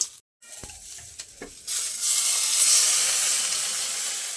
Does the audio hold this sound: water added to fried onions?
yes